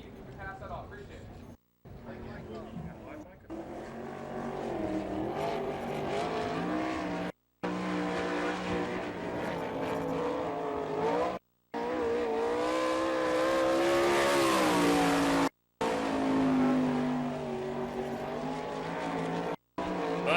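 Sprint cars in an All Star Circuit of Champions heat at Florence, Kentucky, engines roaring loud and sustained with rising and falling pitch as they pass, under an announcer's talk and with brief cuts.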